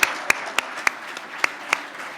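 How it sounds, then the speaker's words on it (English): Sparse, distinct handclaps from a few people at a pitch competition finale, about seven sharp claps over two seconds against a quiet room. "let's just give a huge round of applause to all of our founders"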